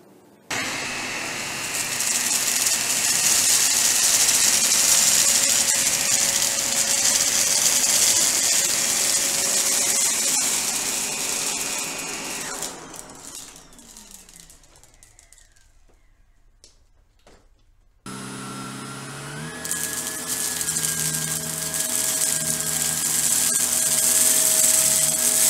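A Shark Rotator ZU632 vacuum cleaner runs on low pile carpet with a loud, steady motor whine, then powers down into near silence for a few seconds before starting up again at full roar.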